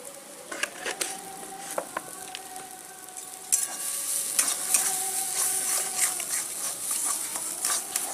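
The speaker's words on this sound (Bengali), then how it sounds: "এটাকে আমরা ভালো করে মিশিয়ে ভেজে নেব" A spiced mixture seasoned with salt and a little sugar fries in a pan, with light spatula clinks and scrapes at first, then a louder, steady sizzle as stirring continues.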